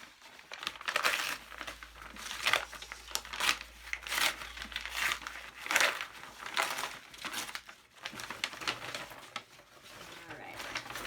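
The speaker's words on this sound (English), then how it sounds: "it's kind of fun to rip paper" Brown paper ripped and crumpled by hand for a kids' craft, giving repeated crackling tears and crinkles in bursts across the clip, close and fairly loud, with a low hum beneath.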